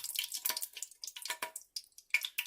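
Olive oil, about two teaspoons, poured into a pan, giving a run of close, crackly dripping and splashing bursts in irregular pulses with no voices.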